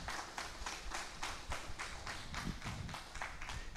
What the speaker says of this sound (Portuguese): Aplaude a Deus, aplaude bem forte.